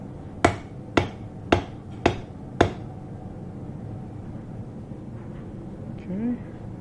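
A naginata blade hammered on an anvil at home: five sharp metallic strikes at an even, brisk rhythm, close and loud, followed by quiet.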